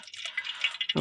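Clean groundnut oil is poured into a cooking pot for village-style chicken cooking, giving a brief, close, bubbly liquid trickle that ends with a louder splash.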